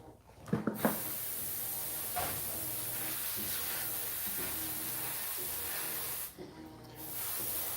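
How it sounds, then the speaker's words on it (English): Iwata Eclipse airbrush spraying paint on a tank model: a continuous soft airy hiss runs throughout, with a few faint knocks near the start and a brief break in the spray toward the end. "This is a pretty good airbrush."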